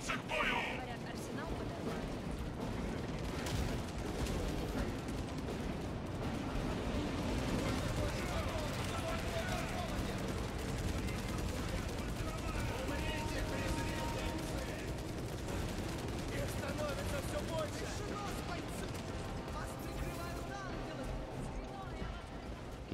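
Gunfire and battle noise from the video game Warhammer 40000 Space Marine 2 run continuously with dense, loud shots and explosions. Voices talk over the din throughout.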